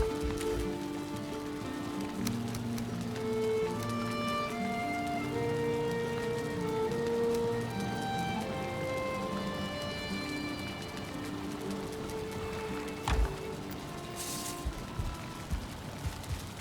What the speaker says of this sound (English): Oh man, it's raining again.